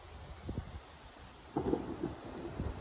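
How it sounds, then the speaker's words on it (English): Steady rain patters over a low rumble of thunder that swells partway through, rolling and distant, with no talking. "Thunderstorm"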